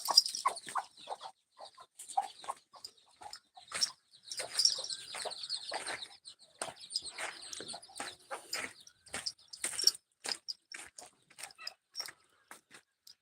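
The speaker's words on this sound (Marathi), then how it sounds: "बाकीचे तिकडे कोंबड्या आहेत आपले" Desi chickens cluck and chirp repeatedly in short, uneven bursts, fairly quiet and close by, with overlapping calls throughout.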